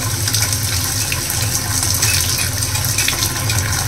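An opened household tap runs steadily, a constant rushing stream of water that stays even and fairly loud for several seconds with no voices.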